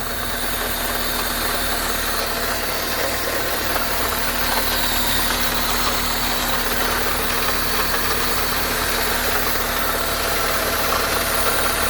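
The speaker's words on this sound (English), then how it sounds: "So you can hear the little bit of clattering." A 2002 Honda Civic LX with 166k miles idles steadily at close range, a constant engine drone with a faint, slight clatter running underneath and no talking.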